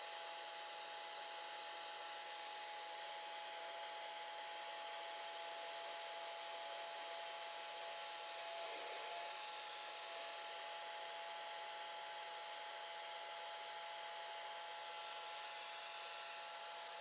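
A hair dryer blows steadily on a watercolor lighthouse vignette painting, a constant close whooshing hum with a faint tonal whine that runs unbroken throughout, with no talking.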